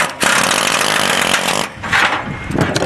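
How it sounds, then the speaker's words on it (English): A loud air chisel hammers to remove a part, running in long rapid bursts with a brief pause in the middle and then a shorter final burst. "Okay, I'm going to use the air chisel"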